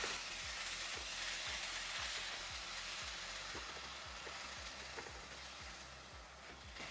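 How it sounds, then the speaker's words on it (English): Ground chicken cooking in a pan, a continuous soft sizzle close by with a regular low rhythmic ticking underneath, quiet and without talking. "my ground chicken has been cooking"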